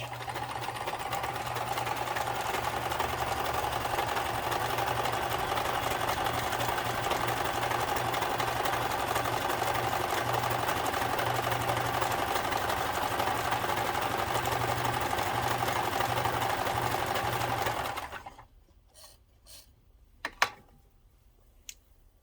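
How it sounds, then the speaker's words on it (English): Kenmore 158.13400 sewing machine running a stretch zigzag stitch, a steady close whirring hum for about eighteen seconds before stopping, followed by a few faint clicks. "So let's do the stretch zigzag stitch."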